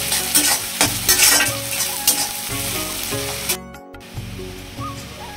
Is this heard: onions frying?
yes